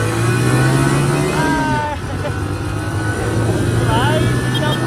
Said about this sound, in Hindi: हम लोग बैठ चुके हैं बाइक पे